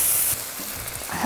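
Chopped liver frying in a very hot pan for Alexandrian liver hawawshi, a steady close sizzle with a brief stir scrape, starting loud then dropping slightly and continuing alone.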